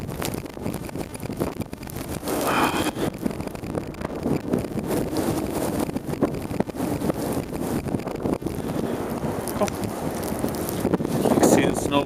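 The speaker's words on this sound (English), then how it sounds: "This wind is kicking. At least 45 miles an hour at this time right now." Strong blizzard wind gusts in Chicago roar steadily and loudly throughout while walking outdoors with dogs in falling snow, the buffeting broad and continuous, with faint footsteps and rustling mixed in.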